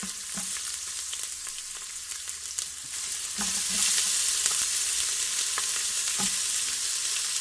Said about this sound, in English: I'm going to go ahead and throw in all the onion and my garlic